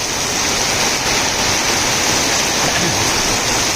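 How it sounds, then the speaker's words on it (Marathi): A heavy downpour roars loud and unbroken on the Degloor–Udgir road, large drops pounding surfaces close by with no voices. "मुसळधार पाऊस बघा हे बघू शकता किती थेंब मोठेचे मोठे पडत आहेत"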